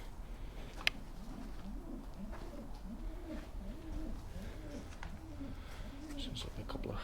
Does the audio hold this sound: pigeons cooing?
yes